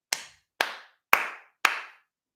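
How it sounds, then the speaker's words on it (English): Four crisp hand claps in an even rhythm pattern, close and dry, each cut off cleanly with silence in between. "you just copy the clap that I do"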